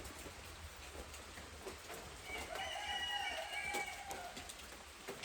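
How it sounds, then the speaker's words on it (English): A rooster crows in the distance over steady rain patter, a long faint call rising above the soft background hiss. "Both of my roosters are crowing. You hear the good solid crow?"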